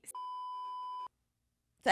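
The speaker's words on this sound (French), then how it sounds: "On va le biper." A single steady electronic beep, pure and continuous for about a second, loud and close, followed by silence and then a brief burst of voice.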